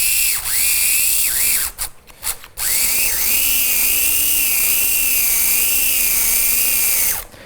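An old brushed electric motor that needs oil and grease runs with a steady high whine and a low hum, briefly faltering and cutting out before spinning back up and turning smoothly.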